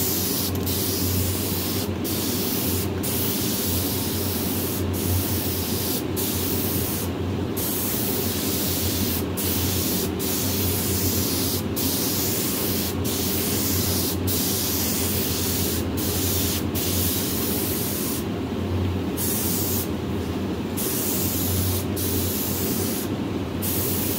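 A spray gun at 25 psi applies Klass Kote silver epoxy paint in a loud, continuous close-up hiss lasting over twenty seconds, broken by a few brief pauses in the airflow.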